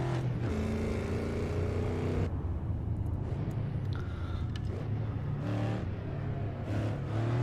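A car engine in a sim racing video game revs and drones continuously, rising and falling in pitch, loud and close with a steady whirring tone throughout.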